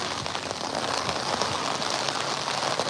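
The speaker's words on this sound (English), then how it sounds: "It's rainy. It's a rainy fucking day." Steady rain falls on a day of flooding in Los Angeles, a dense continuous patter of drops on surfaces, close and even throughout, with no one speaking.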